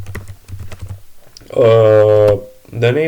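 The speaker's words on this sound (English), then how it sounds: "So I will type Ubuntu Server" Fingers tap quickly on a computer keyboard for about a second, a close run of light clicks, and then a voice speaks.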